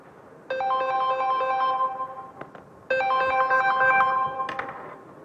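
A telephone rings in two long electronic bursts of a bright, tonal melody, each lasting about two seconds with a short gap between, loud and close with no talking.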